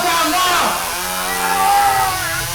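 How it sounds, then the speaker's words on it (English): A chainsaw runs steadily and loudly throughout, its buzzing drone holding under overlapping shouted speech. "Madam, what are you doing with that chainsaw?"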